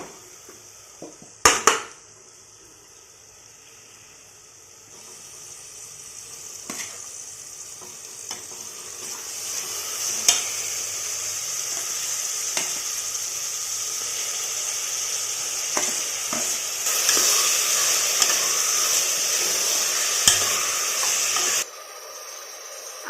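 Onions and tomatoes fry in a pan for a village-style chicken curry, a steady sizzle and hiss broken by occasional clinks and scrapes of stirring, close and continuous with no talking.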